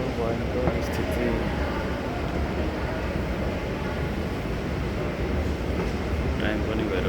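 At a Doha metro station gate at night, a dense, loud, steady roar of ambient rumble and ventilation hum fills the space, with faint clicks and distant indistinct noise over it.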